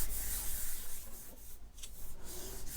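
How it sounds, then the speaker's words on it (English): Paper rubbed by hand onto a Gelli plate coated with metallic mica powder gives a steady, close, soft scraping hiss that runs the whole time with small surges, and no talk over it. "Give it a good rub so it makes good contact with the powder underneath."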